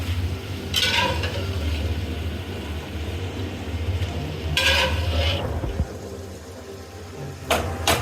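Boiled boti (goat offal) being sautéed and stirred in a pan, a steady close sizzle with scraping stir strokes throughout, no talk.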